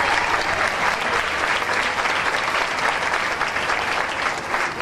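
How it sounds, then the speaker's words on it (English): Steady, dense applause from an audience at a county fair queen and king event fills the space, loud and continuous without a break. "Give us a round of applause"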